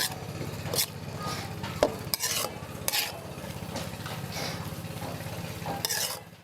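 Egg stirred and fried in a wok in a Myanmar kitchen, with a steady sizzle under repeated scraping and clinking of a utensil against the pan, several sharper knocks standing out.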